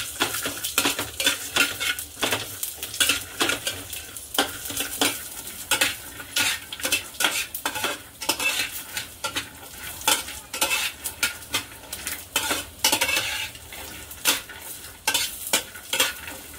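Peanuts, green chilies and cumin roast in a little oil in a pan, with a steady sizzle of frying under busy, repeated scraping and clinking of a spoon stirring against the metal, close and continuous throughout.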